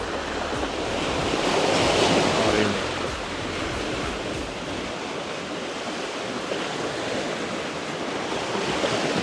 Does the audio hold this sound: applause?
no